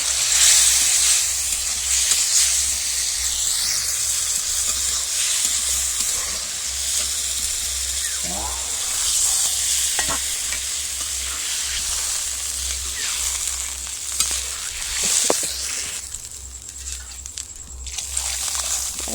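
Fried pointed gourd and potato pieces go into a spiced fish curry base, met by a steady close sizzle and hiss of hot oil with occasional sloshing and stirring, continuing throughout.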